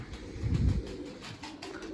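A loft pigeon, a young red bird among the flock, gives a short, deep coo that swells briefly early on, then fades into a low background hum without voices.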